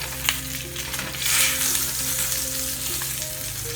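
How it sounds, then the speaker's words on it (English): Sausage sizzles and fries steadily in a hot skillet, a close, continuous crackling hiss with a low background hum and no voices. "now I'm about to remove my sausage from the skillet"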